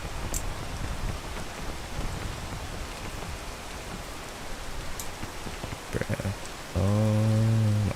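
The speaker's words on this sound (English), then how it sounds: "Alright, it's the rain." Steady rain pours down in a survival game during a mountain climb, a dense, even hiss that runs throughout, with a few soft knocks near the end and a loud layered tone cutting in over it.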